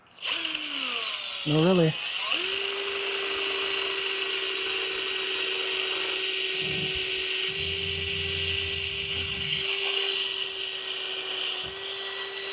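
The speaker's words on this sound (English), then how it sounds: "And then we're just going to grind that end off." A power grinder cuts off the end of an Airstream trailer shower door part, whining up to a steady high pitch and holding through the cut, with brief bursts of speech over it.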